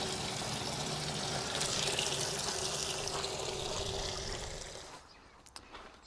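Water flows steadily from a hose fed by an 18V cordless stick pump, making a continuous close splashing gush into a barrel that fades away near the end.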